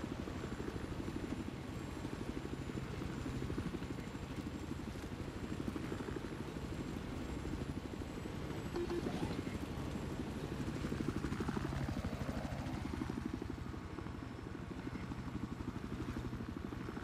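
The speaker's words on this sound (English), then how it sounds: "Got two helicopters." Helicopters in a video game produce a continuous, fairly quiet rotor chop, a steady rhythmic thudding drone that shifts slightly in pitch toward the end.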